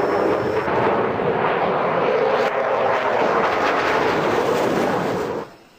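A Eurofighter Typhoon jet fighter in the FS2004 flight simulator game roars steadily and loudly with a broad engine rush that holds constant, then cuts off abruptly at the end.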